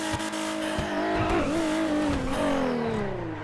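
A Nissan GT-R R35 sheds speed hard from high velocity on a city road, with loud, continuous engine and tire roar whose pitch sweeps down and up across a few seconds, close and dominant with no talk over it.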